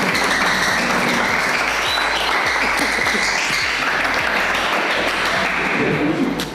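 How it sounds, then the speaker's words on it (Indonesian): A classroom group in Indonesia claps for a student group after a lesson on sermons, giving steady, loud, continuous applause that lasts the whole stretch. "Ya, tepuk tangan buat kelompok 3."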